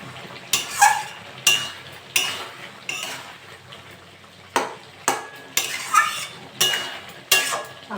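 A spoon stirs a prawn, ridge gourd and potato curry in a pot, making about a dozen metallic scrapes and clinks in an uneven rhythm over a soft simmering hiss.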